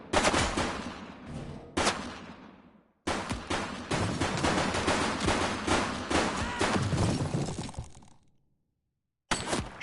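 Dense volleys of police gunfire ring out in the PS5 game The Precinct, loud overlapping bursts and rapid shots hammering on for several seconds before a sudden silence, then another burst at the very end.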